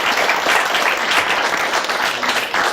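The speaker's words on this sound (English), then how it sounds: "Give a big applause to the guys" Loud, dense applause from an audience at a Cybersalon talk event, steady and sustained throughout with no voices over it.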